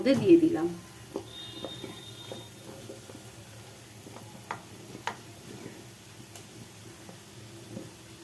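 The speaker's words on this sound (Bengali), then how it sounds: "দু মিনিট নাড়াচাড়া করে নিই" Fried potatoes and elephant foot yam get stirred through a cooked spice masala, with scattered spoon ticks and scrapes against the pan over a faint sizzle after a brief louder clatter at the start.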